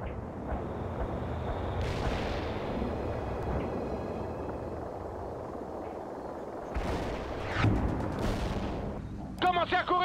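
Artillery fire in the World in Conflict video game makes a continuous low rumble of distant booms under battle noise, with a few sharper blasts and crackles toward the end.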